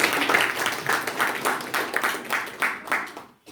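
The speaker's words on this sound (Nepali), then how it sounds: "अब यसमा चाहिँ ताली बजाउँ" An audience in a hall at a stress management and personality development talk breaks into applause, with a dense wash of clapping rising and falling in repeated swells for a few seconds before stopping abruptly.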